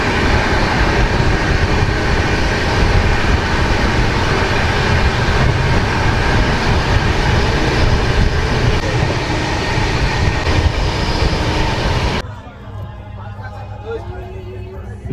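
Passenger train rolling into Sultanganj railway station: loud continuous rumble and rattling of carriages that drops abruptly to a quieter hum near the end, with voices mixed in.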